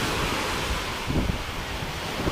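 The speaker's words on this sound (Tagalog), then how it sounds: "Medyo maalon kasi baka yung buhangin lang to. Na pagka umaalon, nabubulabog yung buhangin." Ocean surf rolls onto a beach at a resort, a constant wash of waves mixed with buffeting wind noise on the microphone, steady and fairly loud over a few seconds without voices.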